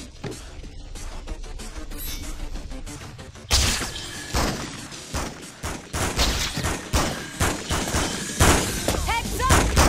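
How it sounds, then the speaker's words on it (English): Gunshots in the Spider-Man 2 video game, repeated sharp cracks in an irregular fusillade that grows louder partway through, mixed with crashes and action noise. "I just heard gunshots!"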